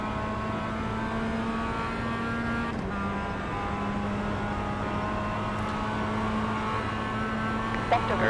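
Mazda MX-5 race car engine droning steadily at Mosport Park in the rain during a racing video game league race, a continuous loud hum with slight pitch shifts and no pauses.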